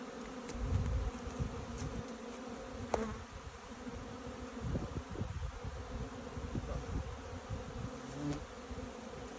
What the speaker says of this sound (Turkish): Bak bir avuç arı bu.